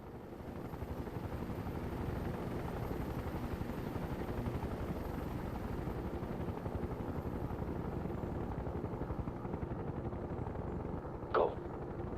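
Steady, rapid chopping rotor drone of a scout helicopter in the real-time strategy game World in Conflict, continuous and moderately loud, with one brief sharp burst near the end.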